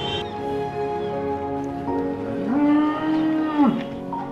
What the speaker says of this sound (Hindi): ये काव है